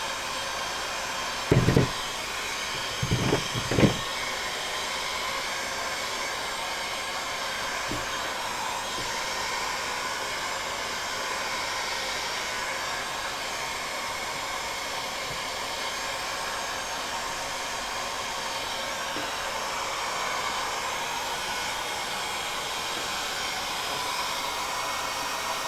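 A hair dryer blows continuously on a low heat setting, a steady, even whoosh of airflow that runs unbroken for the whole stretch, with a few brief knocks near the start.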